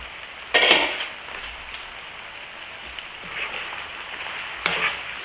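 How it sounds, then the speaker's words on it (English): Pork pieces frying in their own rendered fat, a soft steady crackling sizzle held low and even, broken by a couple of louder clattering knocks near the start and toward the end. "It's cooking in its own fat, which will add to the flavor."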